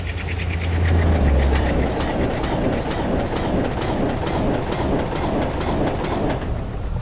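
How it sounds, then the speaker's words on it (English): A diesel train passes in Train Simulator Classic on an Indian route, with rolling wheel clatter and a low engine rumble. The sound stays loud and steady throughout, with no talk. "You get the actual sound of what the train sounds like as you're passing it, and the diesel generator at the end."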